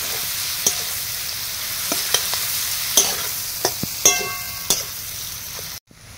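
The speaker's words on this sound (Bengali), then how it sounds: "প্রথমে পেঁয়াজটাকে আমি লাল লাল করে একটু ভেজে" Onions frying in a pan until reddish-brown, with a soft sizzle under several sharp spatula taps and scrapes at irregular intervals, close by and with no voices.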